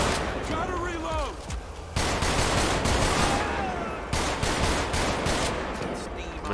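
Gunfire in GTA 5 with the LSPDFR police mod, sharp loud shots in rapid bursts and clusters close by, mixed with someone talking over the action.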